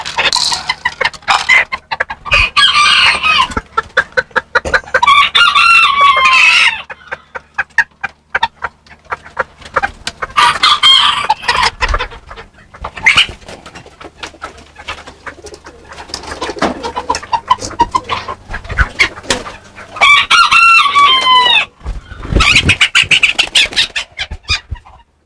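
Serama chickens in a breeding pen cluck and crow loudly and at close range. Repeated bursts of calls and crowing fill most of the clip, with soft cooing from doves and faint background noise between the calls.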